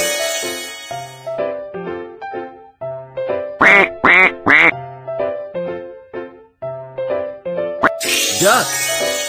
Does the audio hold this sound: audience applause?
no